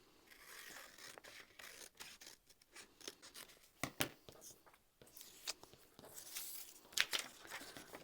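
Scissors snip through fabric for a large Plover pouch, a run of crisp close cuts with short pauses and some faint handling rustle between them, no voices.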